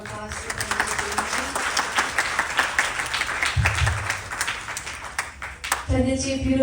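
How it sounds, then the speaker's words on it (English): At a Ganesh Chaturthi celebration, a crowd gives the officiating pandit a round of applause. The dense, steady clapping fills the room and swells toward the end, with faint voices mixed beneath it. "Please give another round of applause to"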